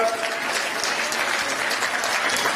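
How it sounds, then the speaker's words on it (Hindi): Loud, dense applause from a large crowd at a rally closing the Chhattisgarh Nyay Yatra at Gandhi Maidan, Raipur, sustained and even throughout without a break. "एक बार जोरदार तालियों के साथ।"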